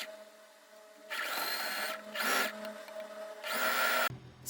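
A domestic sewing machine backstitching a swimsuit seam, whirring in three separate bursts of stitching with short pauses between them, close and clear with no voices.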